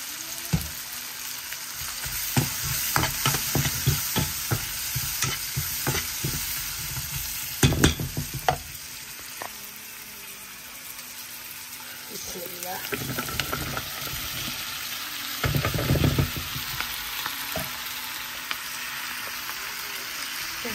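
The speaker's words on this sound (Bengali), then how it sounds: "ওকরা ভাজি" Okra stir-fries in a hot pan, a continuous sizzle broken by clattering scrapes and stirring strokes of a utensil that come in irregular bursts, close and fairly loud, with quieter frying between stirs.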